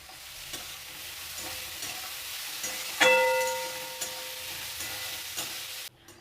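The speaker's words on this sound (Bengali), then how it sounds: "গাজরটা ভাজা হয়ে গেছে খুব সুন্দরভাবে।" Carrots fry and get stirred in a pan with chopped curry leaves, a steady close sizzle with soft scraping strokes and a bright metallic ring near the middle, ending abruptly.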